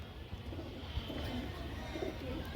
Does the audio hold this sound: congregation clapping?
no